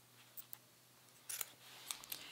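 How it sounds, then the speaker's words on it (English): Scissors trimming the corner of zipper tape on a sewing project, several quiet, crisp snips spaced irregularly against a faint low hum. "So now we're gonna come to the corner and trim that zipper tape and the corner without cutting the thread"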